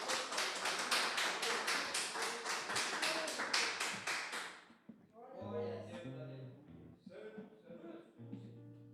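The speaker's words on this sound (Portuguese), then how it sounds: "Uma salva de palmas para Jesus" A church congregation at a Sunday service gives a round of steady, loud applause, with dense rhythmic claps. The clapping stops halfway and gives way to singing and voices.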